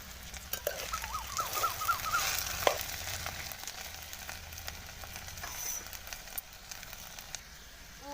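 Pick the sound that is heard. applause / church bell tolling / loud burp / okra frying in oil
okra frying in oil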